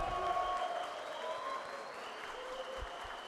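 Applause from the floor of a legislative chamber during an ordinary session, a dense steady patter of many hands holding at an even level across the whole stretch, with no voices standing out above it.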